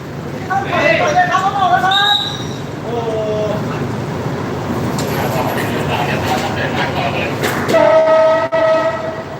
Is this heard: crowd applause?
no